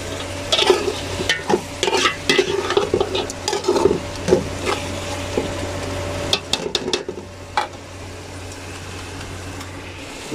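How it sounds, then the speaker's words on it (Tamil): Ginger garlic paste fries in a generous amount of oil for prawn biryani, sizzling steadily while a utensil scrapes and stirs in bursts, with a low hum underneath and no talk. "இஞ்சி பூண்டு பேஸ்ட்டு நிறைய எண்ணெயில் போட்டு நல்லா ஃப்ரை பண்ணிடுங்க."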